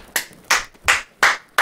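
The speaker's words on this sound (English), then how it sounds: "He's clapping." Hands clap in four sharp, evenly spaced claps about a third of a second apart, close and crisp, with no talking.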